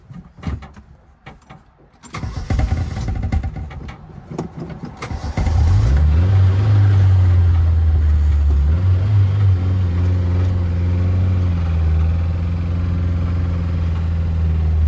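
An abandoned Mercury Capri Turbo, left sitting for 23 years, cranks with a rough rhythmic churning, then catches and settles into a loud, steady running idle with a low droning hum, heard up close.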